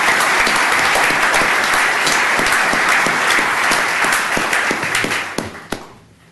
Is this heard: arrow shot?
no